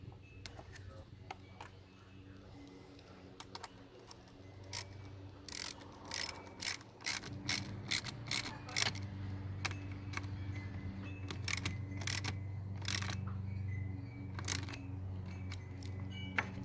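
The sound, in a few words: ratchet wrench reconnecting a Ford Taurus car battery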